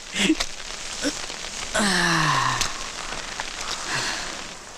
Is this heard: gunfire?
no